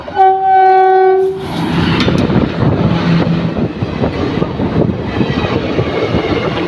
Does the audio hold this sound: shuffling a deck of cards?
no